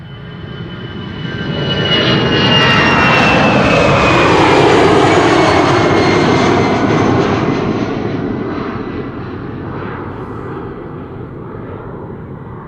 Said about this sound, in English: A319, EasyJet, London Stansted, destination.